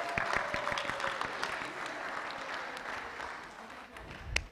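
A church congregation at a Palm Sunday service applauds to vote, a moderate roomy wash of clapping with a few distinct near claps, steady for a few seconds and ending with a sharper hit.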